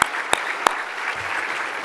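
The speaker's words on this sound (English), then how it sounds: "That deserves a round of applause." Audience applause at a city business awards event, a steady wash of clapping with a few sharp close claps at the start.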